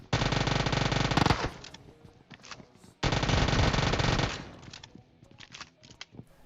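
Two long bursts of rapid automatic gunfire from an Uzi in PUBG Mobile, loud and continuous, followed by scattered single shots and clicks.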